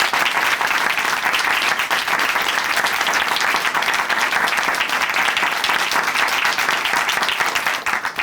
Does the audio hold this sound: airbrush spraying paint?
no